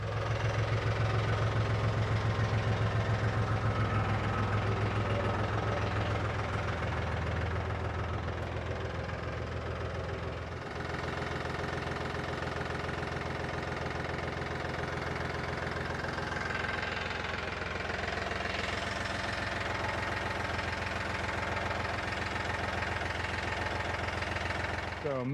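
A Mahindra 3525 tractor's diesel engine runs at a steady idle with a knocking throb, loud and close, holding a constant drone across the whole stretch with a slight shift in tone partway through.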